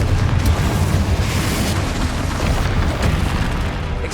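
The Confringo blast spell explodes in the video game Hogwarts Legacy, giving a dense, roaring fiery burst that fills the whole moment, loud and sustained with rumbling low end.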